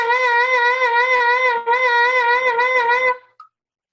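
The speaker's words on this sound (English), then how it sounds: "But a wide vibrato is going to sound like this, a lot of pitch bend." A close saxophone holds a steady tone with a wide, deliberately exaggerated vibrato, the pitch swinging up and down in a regular pulse. There is a brief break in the middle, then it stops after about three seconds.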